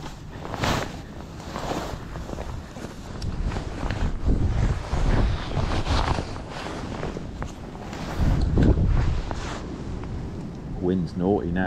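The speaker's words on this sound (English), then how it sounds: "Wind's naughty now." Gusty wind buffets the microphone at a fishing lake, rumbling in uneven surges that rise and fall, with a voice talking briefly near the end.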